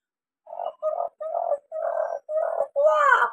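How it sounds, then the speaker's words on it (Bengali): A waterhen calls from jungle cover among water hyacinth: six harsh, croaking notes in a row, the last one rising and louder, heard alone and fairly near. "বন জঙ্গলের ভিতরে বিলিতি পানার ভিতরে ডাকছে ডাক পাখি।"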